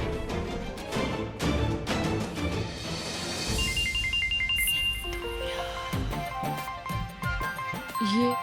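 A phone ringtone chimes in a short melodic pattern amid music and background sound, fairly loud and clear.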